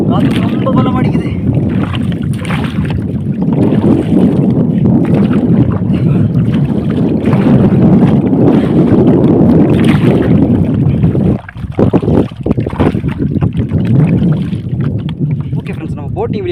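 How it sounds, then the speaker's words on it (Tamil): Strong wind buffets a bamboo boat out on open water, a loud, steady rushing roar filling the whole stretch with only a brief dip near the end, while a voice talks over it. "காற்று ரொம்ப பலம் அடிக்குது."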